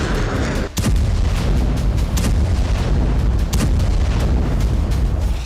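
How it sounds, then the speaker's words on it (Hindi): Israeli air strikes explode over Beit Lahia in Gaza, heavy booms with a sharp blast early on and further cracks amid a dense, continuous roar of rumbling detonations. "उसके बाद गाजा के बेत लाहिया इलाके से धमाकों की आवाज आती है।"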